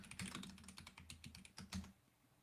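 Rapid clicking keystrokes on a computer keyboard come in an uneven burst of taps with short pauses, close and quiet, then trail off into near silence.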